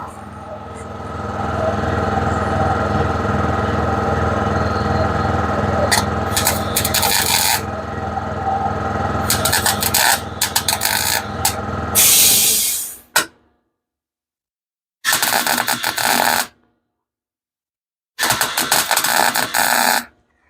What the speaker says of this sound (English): Tweak the settings up a little bit. Don't like the way that's welding.